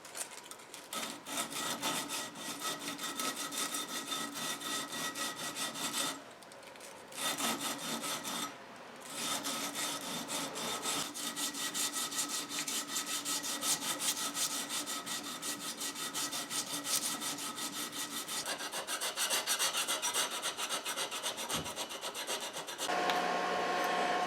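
Steady rasping strokes of a sanding belt strip rubbed by hand against metal, continuous and close, with a couple of short pauses.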